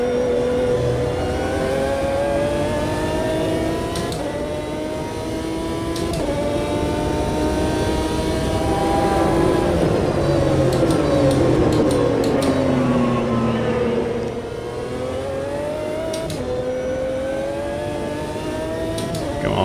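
A McLaren F1 GT1 race car engine in Automobilista 2 roars loud and steady for about twenty seconds, rising and falling in pitch through gear changes, with brief crackles between shifts.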